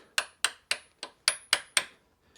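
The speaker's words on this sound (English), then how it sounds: "with your punch and your hammer" Seven sharp metallic hammer blows strike a metal punch in a steady rhythm, each ringing briefly, then a faint tap at the end, while removing a Yamaha Tenere 700 steering stem.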